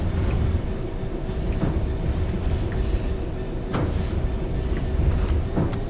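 A Rail Head Treatment train on the Birmingham Cross City line running in snow near Sutton Coldfield, heard from the cab as a loud continuous rumble with rattles and occasional clicks and clanks over the rails.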